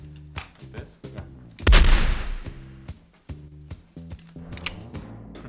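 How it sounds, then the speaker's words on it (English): A loud, booming gunshot in a video game stands out over a steady tonal game soundtrack, with scattered sharp clicks and pops around it. "I almost got shot."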